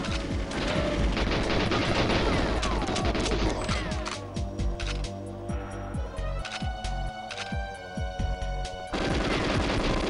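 Dense video-game gunfire from GoldenEye: rapid automatic bursts and sharp shots pile up loud and close for the full stretch, with a brief thinner patch in the middle before heavy firing resumes.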